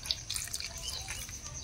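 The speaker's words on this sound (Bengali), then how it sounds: "এই বাটির মধ্যে জল দিয়ে পটলগুলো কিন্তু ভালো করে ধুয়ে নেব।" Peeled pointed gourds being washed by hand in a bowl of water, with steady close sloshing, light splashes and dripping throughout, no voices.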